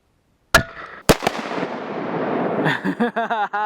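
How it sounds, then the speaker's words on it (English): Two sharp outdoor explosion blasts boom close by, followed by a roaring, crackling rumble that trails off as someone starts talking over it. "that was a huge explosion"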